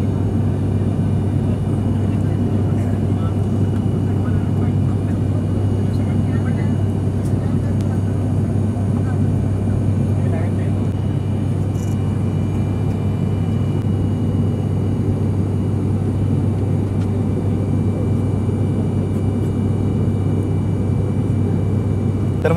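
Inside the cabin of an ATR turboprop airliner cruising on a Solapur to Goa flight, a constant loud engine drone and hum with a steady low tone runs unchanged throughout, with no talk.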